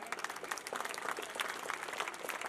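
An audience at an annual school function claps loudly and steadily, a dense crackling ovation with many hands heard together.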